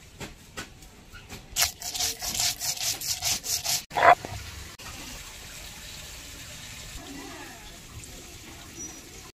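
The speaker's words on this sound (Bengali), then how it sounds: "কালো সর্ষে আর কাঁচা লঙ্কার ভিতরে অল্প একটু লবণ দিয়ে বাটবো" Black mustard seeds and green chilies with a little salt ground by hand on a grinding stone, a steady rhythmic scraping rub of stone on stone repeating about ten times, close and fairly loud, then a quieter stretch.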